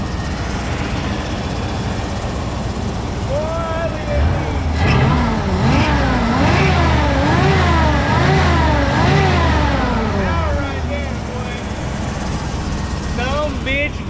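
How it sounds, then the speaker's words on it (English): A 1990 GMC Suburban with a 350 V8 revs repeatedly, engine pitch climbing and falling in several loud swells close by, under steady background noise and some talk. "When I hit the gas, you can see the whole thing boom"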